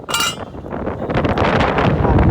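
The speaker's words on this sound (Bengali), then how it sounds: "আর বাতাস, ধুলা বালু প্রচুর পরিমাণে এখানে।" Strong wind buffeting a microphone at a brick kiln, a loud continuous rumbling roar close up, with a short bright rattle at the start.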